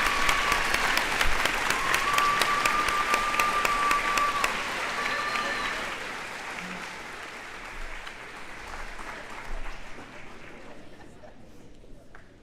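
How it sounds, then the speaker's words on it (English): Audience at a junior high school graduation ceremony applauds, a dense crowd of clapping with a few cheers that gradually thins and fades out, with faint chatter near the end. "Round of applause for these continuing graduates."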